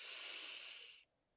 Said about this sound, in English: Now breathe in,